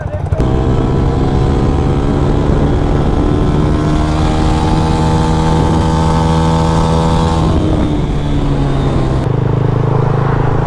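A motorcycle cruises along an elevated expressway, its engine droning loud and steady near the microphone, the pitch slowly rising and then easing with wind rush throughout.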